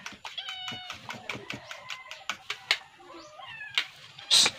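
Several cats meow repeatedly at close range in quick overlapping calls, mixed with light tapping clicks, near a home kitchen.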